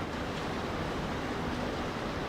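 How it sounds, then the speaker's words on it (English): Continuous dense hum and wash of ambient noise in hot Dubai, steady and unbroken, like air conditioning units with distant street sounds blended underneath. "you can hear air condition everywhere"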